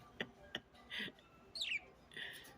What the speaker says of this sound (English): they just flying, messing around in a cage